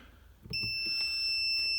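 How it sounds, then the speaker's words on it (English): A continuity tester beeps on a vintage Mopar semi-automatic transmission solenoid circuit. After a few soft clicks, one steady high electronic tone starts and holds to the end, loud and close. "And when this switch is closed, there's going to be continuity. It'll beep."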